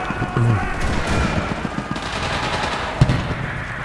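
A tank fires during a World War II battle in the shooter game Enlisted, with dense rattling gunfire and a sharp blast near the three-second mark, all under constant battlefield noise.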